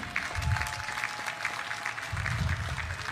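A crowd claps together in steady applause at an outdoor public event in Kwale, Kenya, a dense and even patter that lasts the whole moment.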